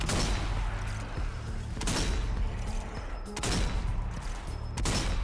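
Bursts of gunfire from the zombie shooter game Zombie Army 4 come in three loud volleys roughly a second and a half apart, each a dense crackling fusillade against a rumbling background.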